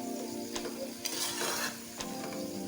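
Minced keema with capsicum sizzling in a pan, a spoon stirring and scraping through it in a few uneven strokes over a steady frying hiss, close and fairly loud.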